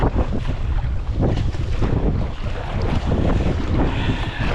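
Strong wind and choppy sea waves around an inflatable sea kayak, a loud continuous rush of air buffeting the microphone with water sloshing and slapping against the hull close by.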